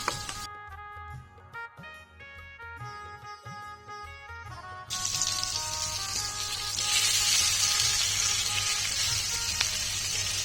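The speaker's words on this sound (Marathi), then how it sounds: "थोडासा आपण तेल घालून घे छान तिरकुरू होईपर्यंत हे पापलेट आपल्याला फ्राय करून घ्यायचं आहे" Pomfret coated in rava and rice flour fries in hot oil, starting with crackling pops under a sustained musical tone and then turning into a loud, steady sizzle that builds and carries on.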